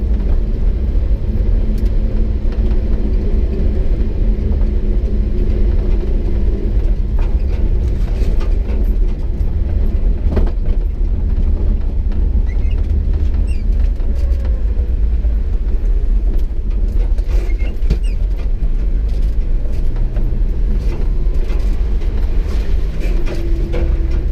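Japanese mini truck in four-wheel drive crawling along a slushy, snowy trail, with a steady loud engine drone and rumble plus scattered knocks and thumps from the chassis and load.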